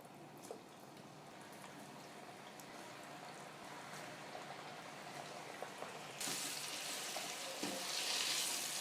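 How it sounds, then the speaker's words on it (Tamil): Potato fries, lightly coated in cornflour, deep frying in hot oil with a steady broadband sizzle that grows louder and brighter toward the end, with no voices over it. "நம்ம உருளைக்கிழங்கு வந்து நல்லா செவக்க நல்லா பொரித்து எடுத்துக்கணும்"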